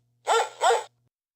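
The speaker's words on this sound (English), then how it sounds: "Dog." Two quick dog barks in a row, close and clear against otherwise silent surroundings, with a faint steady hum that cuts off right after.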